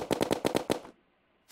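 Minishark machine gun firing in Terraria, a quick burst of about seven rapid loud shots in even rhythm, then a brief silence before another shot starts.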